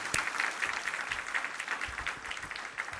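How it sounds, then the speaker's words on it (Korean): Church congregation applauding during a Korean worship service, a dense, steady wash of clapping from many hands that stays moderately loud for the whole stretch, with no talk over it. "우리 다 같이 하나님께 영광의 박수 올리겠습니다."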